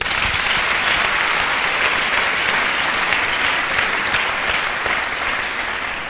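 A church congregation claps in loud, dense, sustained applause that holds steady throughout and fades slightly at the very end.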